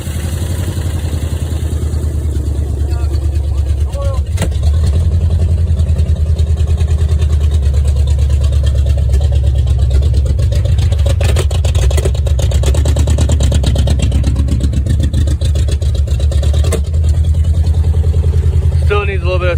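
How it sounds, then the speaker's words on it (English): A 1965 Pontiac LeMans Sport Coupe's engine, with its exhaust newly refitted, turns over and runs loud and close, a steady rough idle with ticking, clattering bursts throughout. "Firing it up here shortly. Hopefully it runs better than what it did."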